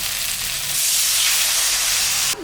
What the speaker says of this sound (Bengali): তরকারিটা আমার কষানো হয়ে গেছে এখন আমি জল দিয়ে দিই